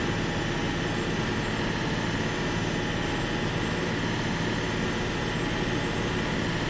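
Skoda 21AB bus engine in the OMSI 2 simulator held at high revs, a dense, steady droning roar with constant loudness and no talking over it.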